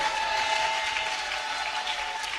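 A church congregation at a special worship service applauds and acclaims in a dense, sustained wash of clapping and cheering, loud and filling the room, with a steady tone running underneath.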